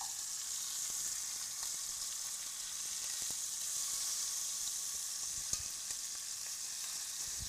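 Beef short ribs searing in a hot pan give a steady, bright, hissing sizzle that runs continuously and evenly throughout, close and fairly loud, with a couple of faint pops and no talking.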